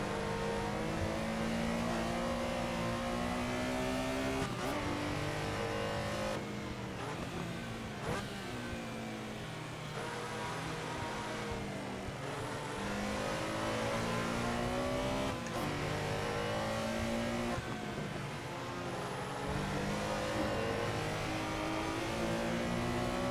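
Porsche Carrera RSR race car engine in the Assetto Corsa racing simulator, a loud continuous engine roar climbing and dropping through repeated upshifts and downshifts across the whole race stretch.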